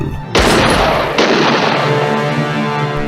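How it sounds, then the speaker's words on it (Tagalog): Gunfire sound effect in a Filipino crime dramatization: two loud, sharp reports about a second apart, each followed by a long rumbling echo that lingers around the scene. "kakasunod na putok ng baril ang umalingaw sa paligid"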